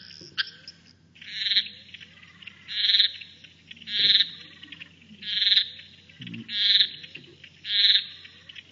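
A frog in the Kimberley region of Australia calls repeatedly in a steady rhythm, each note a sustained beep with a slight waver, with softer chucking sounds underneath; close and clear.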